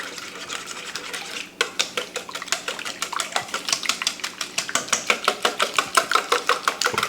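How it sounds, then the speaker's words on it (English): Eggs beaten with brown sugar and bourbon for grilled French toast, a whisk clicking rapidly and rhythmically against a bowl, steady close strokes that grow louder after a brief softer start, no voices. "A little whisk."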